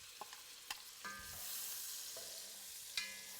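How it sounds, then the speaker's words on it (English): Chopped onion fries in rendered bacon fat for potato soup, a soft low sizzle broken by several sharp utensil taps and scrapes against the pot. "So I've got this onion, and I'm going to put those in the bacon right away."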